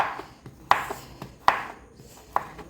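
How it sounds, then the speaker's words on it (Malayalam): A knife chops thin round slices of raw nendran plantain on a board: four sharp, close strikes at uneven intervals, each with a short ringing decay, and no talking. "കനം കുറച്ച് വട്ടം നുറുക്കിയിട്ടത് ഇങ്ങനെ കീറിയിട്ട് ഇതേപോലെ അരിഞ്ഞ് എടുക്കുക"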